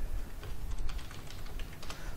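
Fingers tapping on a computer keyboard at a steady, moderate pace, a run of soft close clicks over a low background hum, with no voices.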